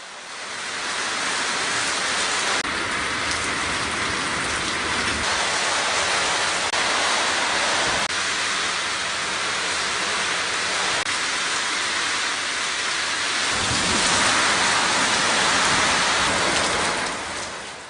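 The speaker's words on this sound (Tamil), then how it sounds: "காற்றுடன் சுமார் 1 மணி நேரத்திற்கும் மேலாக கனமழை பெய்தது." Heavy, wind-driven rain pours down in a steady, dense hiss for the whole stretch, with no distinct thunderclaps standing out.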